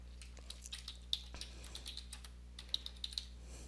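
Rapid, light key taps on a computer keyboard while an assignment post is written, close and quiet over a steady low electrical hum, with a few brief pauses.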